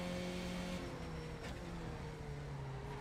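Race car engines drone steadily through a sim racing game session, several cars running at once with sustained tonal engine notes at moderate level, no talk over them.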